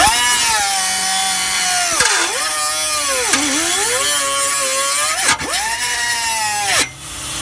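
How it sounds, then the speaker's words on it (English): A tool cuts through the exhaust pipe of a Honda Accord during a muffler delete, giving a loud, close, strained metallic whine that dips and recovers in pitch over several strokes before cutting off abruptly near the end. "cutting the exhaust pipe"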